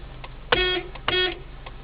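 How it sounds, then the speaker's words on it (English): A car horn sounds twice near a monkey on a car: two short honks about half a second apart, each lasting roughly a quarter second, over quiet background. "Maybe if you honk the horn."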